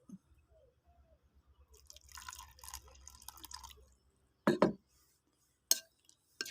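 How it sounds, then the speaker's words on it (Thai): Water trickles and drips into Thai pounded fish dip (pon pla) in a bowl, with clinking of a utensil against the dish and brief louder splashes near the end; no voices. "แล้วก็น้ำหน่อย น้ำหน่อย ใส่อีก ใส่อีก"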